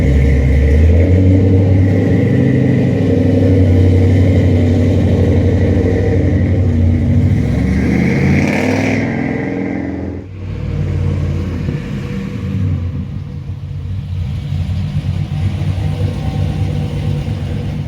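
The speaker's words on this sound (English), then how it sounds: "he's going to shake the car down, drive it around the block a little bit" Pontiac GTO with freshly swapped suspension rumbling and revving as it pulls away on a shakedown drive, a loud, close engine note that rises, dips sharply midway, then settles into a lower steady drone.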